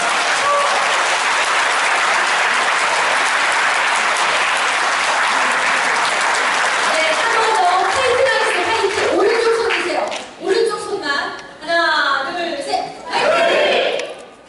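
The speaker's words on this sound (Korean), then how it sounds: "마지막 박수 한번 치겠습니다." Loud, dense applause fills a large city hall meeting room at a hundred-person roundtable citizens' meeting, sustained for about ten seconds before breaking into scattered claps and voices as it dies away.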